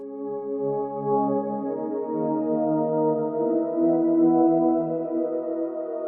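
Two stacked synth chord layers, one of them an Electra 2 patch, sustain together in FL Studio, forming a thick, steady wash of harmony that plays alone at even loudness throughout.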